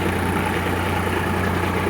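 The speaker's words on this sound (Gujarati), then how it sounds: "અને ટ્રેક્ટરના આરપીએમ બતાવીએ તો 1100 આરપીએમ છે ટ્રેક્ટરના" A Preet 955 tractor engine idles steadily at about 1100 rpm, a close, even diesel drone with a constant low hum and no changes in pitch or load.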